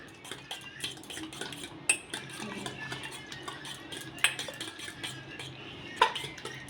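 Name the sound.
mixing eggs, salt, onion and chilli in a bowl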